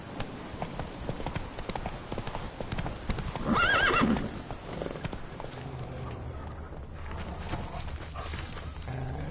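Roach the horse gallops in The Witcher 3, with fast, steady hoofbeats throughout and a loud whinny partway through, over a busy game soundscape that includes some dog barking.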